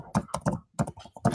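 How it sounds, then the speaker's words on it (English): Fingers type on a computer keyboard, crisp clustered keystrokes in quick bursts with short pauses between, close and clear with no talking. "I'm typing email in here."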